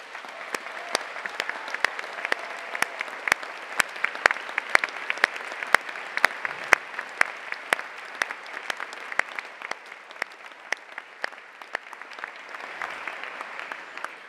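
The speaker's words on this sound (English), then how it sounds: "Let's give them a round of applause, everyone." Sustained audience applause fills a university graduation ceremony hall, a dense steady wash of many hands clapping with sharp individual claps popping out, continuing at even strength throughout before easing slightly near the end.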